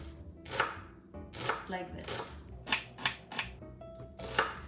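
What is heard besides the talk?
knife chopping shallot into small dice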